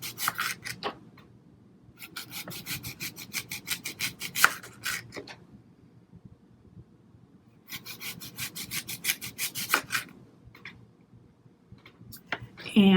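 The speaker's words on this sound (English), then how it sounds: "So I'm going to cut a couple of thin slices." A knife cuts thin slices on a cutting board in two bursts of rapid, rhythmic sawing strokes, close and distinct, separated by quieter pauses with a soft tap or two.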